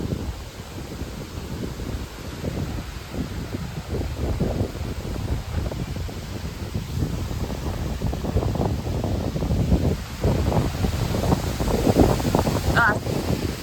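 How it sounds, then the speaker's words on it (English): Strong storm wind gusts buffet the microphone in a steady roaring rush for the whole stretch, swelling louder toward the end with brief rustling, and no talk over it. "It's just a little bit of wind."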